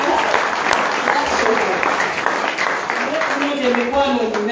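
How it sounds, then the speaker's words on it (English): A church congregation claps in steady, full applause during a worship service, with a dense wash of hands continuing throughout while a voice speaks faintly underneath. "If you're clapping, give them a"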